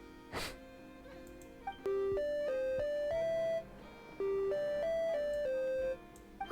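Musical prompt tones from Genshin Impact sound as a sequence of clear electronic notes, held chime-like pitches that step up and down in two phrases, loud and close, with short clicks between and no speech.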